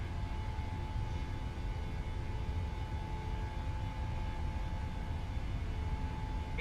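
Boeing 737-800 engines spooling to full throttle on the takeoff roll in the PMDG flight simulator, a steady loud broadband jet roar with a constant tone running throughout, no talk.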